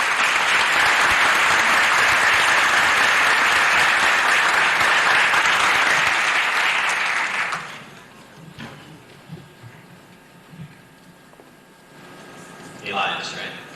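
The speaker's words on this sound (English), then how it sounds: "Let's give the kids a big round of applause." Audience at a 1991 spelling bee applauding the children, dense loud clapping that holds for several seconds and then cuts off into a quiet hall with faint shuffling and a brief voice.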